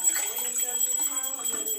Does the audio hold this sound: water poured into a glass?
yes